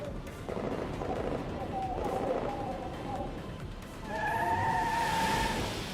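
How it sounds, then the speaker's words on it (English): Car engines rev and tires screech in a Girls' Frontline game scene, with sharp squeals and rising engine whines over a busy mix of gunfire-like bursts, fairly faint overall. "Amaris hears intense gunfire, along with the sudden roar of revving engines"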